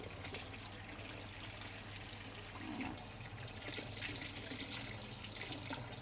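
Hot water runs steadily from a kitchen tap, a continuous broadband hiss and splash with a faint low hum beneath, no voices.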